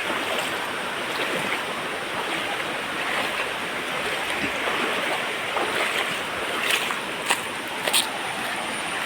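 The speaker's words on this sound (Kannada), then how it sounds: "ಎಷ್ಟು ದೊಡ್ಡ ಹೊಳೆ ನೋಡಿ" Steady broadband rushing of flowing water fills the whole stretch, loud and continuous, with a few brief louder splashes near the end.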